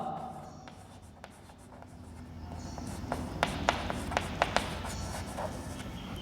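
Marker or chalk writes on a classroom board in short strokes and quick taps, faint at first and then crisper, with soft room noise behind.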